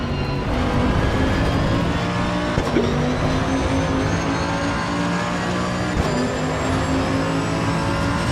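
Race car in the Assetto Corsa Evo racing game during a daily online race, engine roaring loud and constant with shifting revs and occasional tire squeal.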